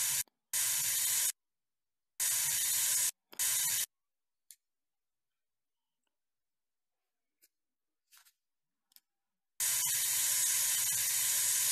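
Bursts of steady spray hiss from a virtual spray pen in the VR painting app PaintingVR, several short ones early on, then silence with faint ticks, and a longer continuous spray at the end.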